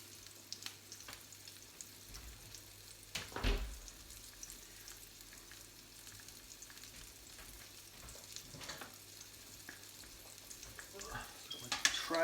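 Spicy bean burgers pan-frying in oil, a faint steady sizzle with occasional handling clatter, heard at a distance and fairly quiet throughout.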